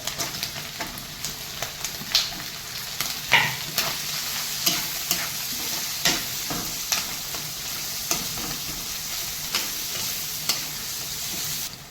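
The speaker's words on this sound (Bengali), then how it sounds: "পেঁয়াজটা দিয়ে ভেজে নেবো লাল লাল করে" Onions fry in oil for a spicy Bengali snail curry, a steady close sizzle broken by repeated scraping stirs of the spatula at irregular intervals, with no talking.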